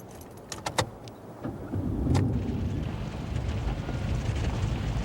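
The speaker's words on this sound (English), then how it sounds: "The engine will start up and idle over the obstacles." A 1988 Jeep engine cranks on the starter in first gear and catches, a few sharp clicks and knocks giving way to a steady low engine rumble that carries on close by with no talk.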